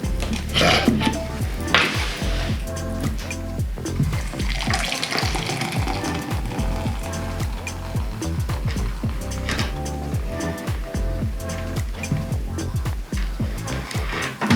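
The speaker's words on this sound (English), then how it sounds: "Yes, I know I'm not pouring it properly." Pilsner beer poured into a glass in a hurried, clumsy way, a loud, continuous gush of liquid splashing and foaming close up with occasional glassy pings.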